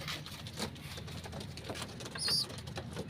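Pigeons in a loft, with soft cooing and rustling among the birds, a few brief higher chirps and faint scratchy movement throughout.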